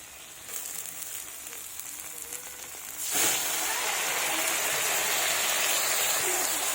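Water poured into a spiced fish curry base frying in a pan, sending up a sudden loud, broad hiss and sizzle that starts partway through and holds steady to the end.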